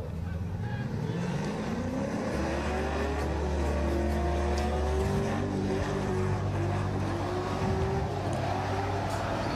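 An LS1-powered Nissan 240SX convertible on a drift qualifying run, its V8 engine droning and revving with rising and falling pitch, heard at a distance over steady crowd and track noise.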